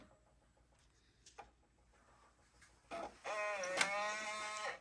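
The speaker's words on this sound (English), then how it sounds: "Let's see if we can get this one to boot from a floppy." A vintage Macintosh attempting to boot from a floppy disk, faint drive clicks giving way to a loud, sustained whirring and grinding burst with a shifting tonal whine in the second half, close by and without talk.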